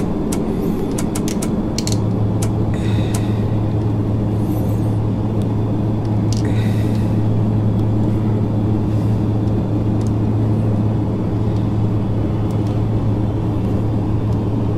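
Carenado ATR 72-500 turboprop engines in a flight simulator game hold a loud, steady drone throughout, a sustained low tone rising in after the start, with faint mechanical creaks and clicks near the beginning.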